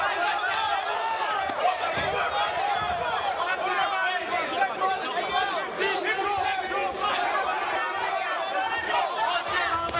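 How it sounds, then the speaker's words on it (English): Team benches at a fight event shout and cheer in a continuous, dense crowd roar with overlapping voices that stays loud throughout. "Both benches cheering on."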